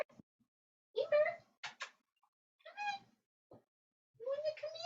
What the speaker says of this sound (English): Is it you meowing and not Ember?